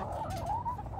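Chickens let out of their pen cluck and chirp softly at close range, a brief wavering call with no talk over it.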